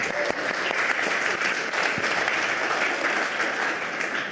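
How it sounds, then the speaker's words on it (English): An audience at an improv session on social engineering breaks into dense, steady applause that holds at an even, fairly loud level for the whole stretch, with no talk over it. "Give her a round of applause."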